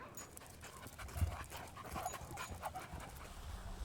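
A half Rhodesian ridgeback, half boxer dog pants in short, steady breaths close by, with faint outdoor background noise and no talking.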